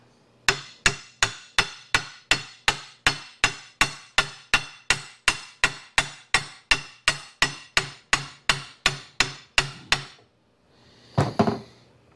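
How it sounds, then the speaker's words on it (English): A hammer taps a washer onto a Speedway Motors straight axle: about twenty-five sharp metallic strikes in a steady, fast rhythm, close and loud, then a pause and one softer rattling knock at the end. "And then we'll tap, tap, tap some more."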